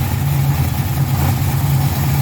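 The engine of a TVR Griffith race car runs with a steady, loud, low rumble, held at a near-constant idle while the throttle pedal is pressed gently.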